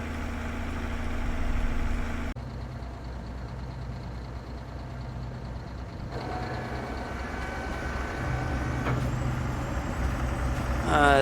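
A tractor engine idles in Farming Simulator 22 on a Saskatchewan farm and keeps threatening to stall. A steady low diesel rumble runs throughout with a few shifts in tone, close and continuous, with no talking.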